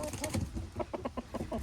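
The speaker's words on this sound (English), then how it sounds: "Do you hear how Gus calls all the other chickens over?" Gus the rooster gives a run of quick, soft, rhythmic clucks calling the hens to worms on a hobby farm, fairly faint amid scratching and bird noise.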